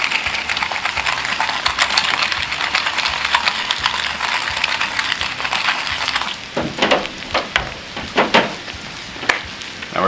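Breakfast eggs seasoned with salt and cracked pepper fry on a Cuisinart 360 griddle, a steady broadband sizzle running throughout, joined in the later seconds by several sharp clicks and scraping taps of a utensil.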